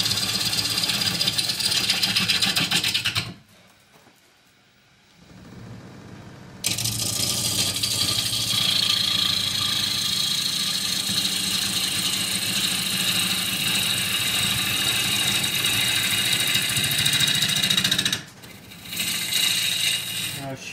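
Wood lathe spinning an unbalanced box elder bowl blank, a steady loud rattling hum with a brief stop and restart, then a short dip near the end.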